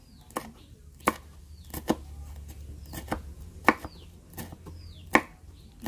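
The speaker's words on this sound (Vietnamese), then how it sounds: "Mình thì mình sẽ xắt nó ra như thế này rồi mình bằm nhuyễn nó luôn." Knife mincing chili peppers on a cutting board while vegetarian salt-and-chili fried ribs are prepared: quick, irregular, crisp taps, close and fairly loud, with no talk.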